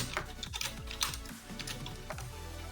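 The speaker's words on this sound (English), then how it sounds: "So you're gonna type the venue." Keys tapped on a computer keyboard while entering venue text in Photoshop, several close clicks at an uneven pace over a faint background hum, no talking.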